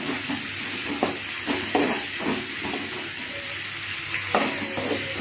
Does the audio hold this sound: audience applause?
no